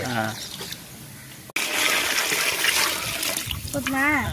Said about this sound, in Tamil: அதில் தண்ணி ஊற்று